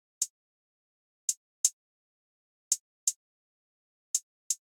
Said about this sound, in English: I did this simple hi-hat.